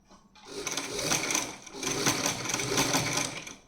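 A sewing machine stitches fabric in a tailoring class, running in two steady bursts of fast, even needle clatter at close range with a short pause between, no talking.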